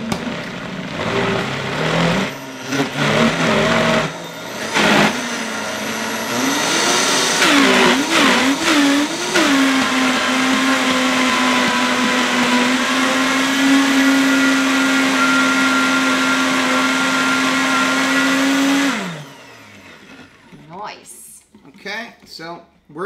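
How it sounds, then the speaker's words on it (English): A Vitamix blender on high whips a keto three-cheese dip, spinning up in uneven bursts before settling into a loud, steady whine that cuts off abruptly near the end, with voices chatting around it. "you'll probably have to use the tamper on the Vitamix, but go ahead and turn it on"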